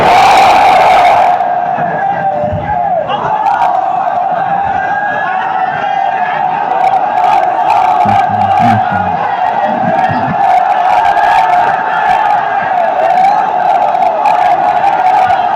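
A large crowd at a Bangla Islamic religious sermon (waz) shouts the takbir in unison, a loud, sustained roar carried over a public address system with a steady hum beneath it.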